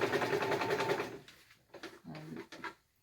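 A sewing machine stitching fabric with a lengthened zigzag stitch, a steady close mechanical whir for the first second, then breaking into short, uneven bursts of motor and needle noise with pauses between.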